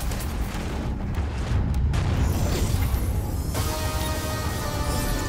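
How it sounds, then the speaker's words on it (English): A loud, sustained explosion in the Crackdown 3 video game, a dense low rumbling boom lasting several seconds with a sharper burst partway through and a ringing tail, with no speech over it. "An explosion and"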